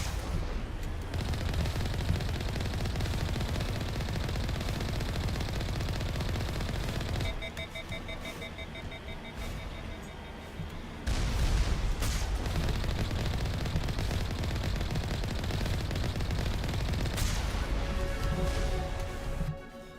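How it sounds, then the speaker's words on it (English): Enemy missile launchers and heavy weapons fire in Mass Effect Legendary Edition make a dense, continuous barrage of rapid shots and blasts. Brief electronic tones cut through midway, and the volume dips and surges with the combat. "Okay, they got missile launchers. Where are they at, though? Oh, there they are. Oh, they're already firing."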